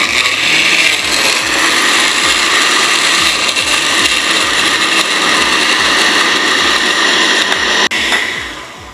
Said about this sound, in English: I'm adding some cumin, some salt, some pepper, and then I am going to blend